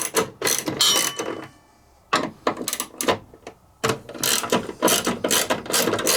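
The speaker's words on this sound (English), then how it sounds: "we are going to loosen these Allen ones up" A ratchet loosening Allen bolts on a Horizon treadmill motor, rapid loud clicking in three bursts separated by short pauses, close up.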